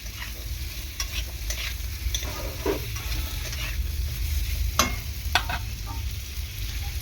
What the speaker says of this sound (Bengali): সবে মাত্র আমি ক্যাপসিকামটা দিয়েছি, দিয়ে হালকা করে নাড়াচাড়া করে নেব।